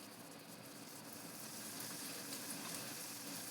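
Bondas made from red rice idli batter frying in hot oil, a soft, even, continuous sizzle heard close and fairly quiet throughout.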